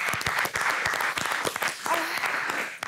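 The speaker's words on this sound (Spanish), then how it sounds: "Un fuerte aplauso, señores." A studio audience applauds at a TV show, dense clapping that is loud and sustained from start to finish, with a voice speaking over it.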